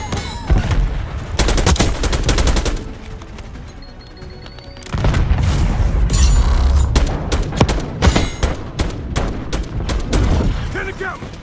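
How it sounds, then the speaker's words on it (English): Repeated heavy gunfire from a hand cannon in a multiplayer shooter video game, bursts of loud close shots in rapid clusters with a brief quieter lull midway, under battle noise and faint voices. "Hand cannon going on."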